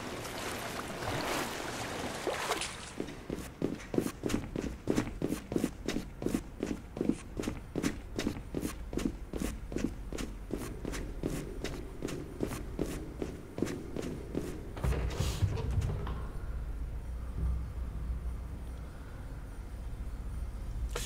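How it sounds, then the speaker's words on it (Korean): Steady footsteps in the horror game Pools echo through empty tiled poolrooms, an even walking rhythm of around two dozen close steps with a hollow, wet shuffle before they stop. "방금 발소리가 내 발소리가 아니지 않나?"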